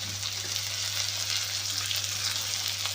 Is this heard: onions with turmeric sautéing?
yes